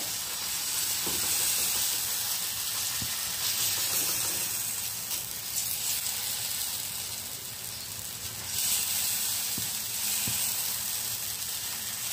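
Pumpkin paratha batter sizzles steadily on a hot tava griddle, making a continuous soft hiss and crackle with faint clicks and no talking.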